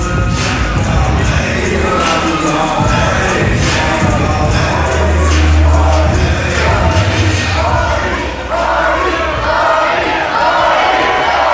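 Wrestling crowd in Farmville roaring for Jeff Hardy and Amber O'Neal, a dense, loud, continuous swell of cheers and shouting with occasional thuds, sustained throughout with a brief dip near the end.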